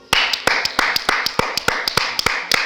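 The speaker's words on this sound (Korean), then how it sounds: "아, 잠깐만. 박수." Hands clap in a quick, steady run of about fifteen crisp, loud claps close by, with no voice over them.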